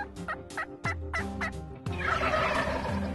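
A Rio wild turkey in South Texas cactus country gobbles in a rapid burst of rattling notes, loud and fairly close, with a rougher noisy stretch after it and no talk.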